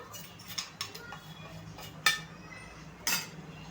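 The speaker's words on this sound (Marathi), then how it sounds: "आता आपण हे फोडणी संपूर्ण आपल्या भडंगवरती मिक्स करून टाकून घ्यायची आहे." Kolhapuri bhadang, puffed rice chivda, being mixed with a garlic, Kashmiri chilli and turmeric tempering, with sparse metallic clinks and taps of a spoon against a vessel over quiet rustling, a few sharper knocks standing out.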